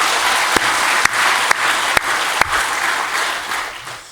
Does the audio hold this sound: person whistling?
no